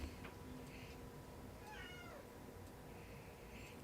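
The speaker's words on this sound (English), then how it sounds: "he's called Buddy, that Buddy has come in and meowed" A cat meows several times during a talk at a Tibetan center, the calls clear but fairly quiet over a steady room hum, with no talking.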